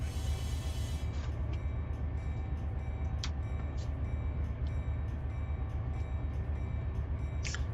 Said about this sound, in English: Yeah, see, that's a manifest train.